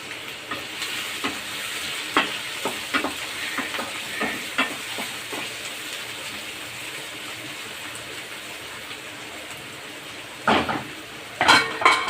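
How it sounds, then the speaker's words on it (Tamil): Chopped onions sizzle steadily in hot oil with popped mustard seeds in a pan for a prawn thokku, with scattered scraping taps of a spoon stirring them and a louder clatter of stirring near the end. "வெங்காயம் வதக்கட்டும்."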